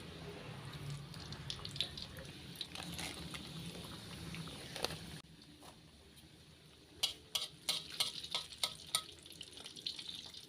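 Soft bubbling sizzle of pastel bihun pastries deep frying in oil, steady and fairly quiet, with light clinks and scrapes of a utensil toward the end.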